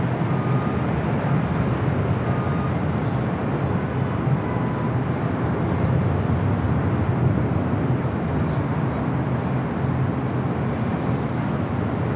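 A Philippine Airlines airliner rolls for takeoff at LAX, a steady broad jet roar holding constant and moderately loud throughout, heard from a distance.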